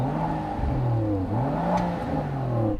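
A Rolls-Royce car engine revs in a smooth, steady hum, its pitch rising and falling in gentle sweeps at a close, moderate level with no talking.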